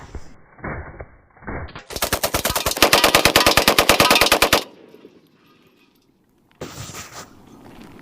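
Firearms fire in bursts: scattered single shots, then a long rapid automatic volley lasting a couple of seconds, a pause, and another short loud burst, with no talking.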